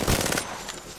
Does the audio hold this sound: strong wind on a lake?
no